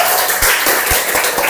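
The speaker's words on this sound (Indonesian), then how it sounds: "untuk semuanya kita beri tepuk tangan" Classroom audience clapping together for a short burst, loud and close, with uneven overlapping claps.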